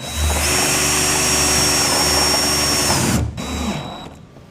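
A power tool whirs loudly and steadily as it drives screws into a solar panel bracket on a metal roof. After about three seconds it cuts out, gives a brief second burst, then winds down.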